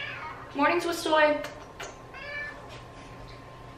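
A pet cat meows a few times in a home, the calls close and fairly loud, while someone speaks softly over and between them.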